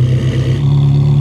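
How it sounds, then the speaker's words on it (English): Ferrari 360 fitted with a Capristo Stage 3 exhaust, heard up close as a loud, steady deep engine note held throughout, with no talk over it. "just experience that exhaust once more, get some recordings of it for future reference"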